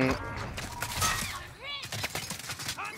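Quiet bursts of rapid gunfire in Warzone, fairly distant and low in the mix, with a few sharp shot cracks and voices talking over them.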